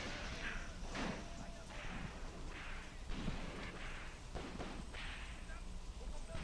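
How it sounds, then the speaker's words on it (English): Mortar rounds from a World War II Eastern Front battle in the Graviteam Tactics war game, set around Kharkov in 1941, thud and crack repeatedly as a steady barrage of dull booms with sharp transients under constant battlefield noise. "Yeah, I called in more mortar fire."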